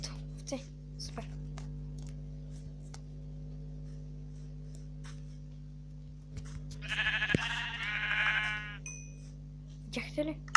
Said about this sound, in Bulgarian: ето, овце, супер.